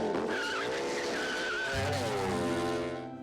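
A cartoon RC car's tires squeal in a loud, wavering skid lasting a few seconds, joined midway by a heavier engine roar as the screech slides and fades.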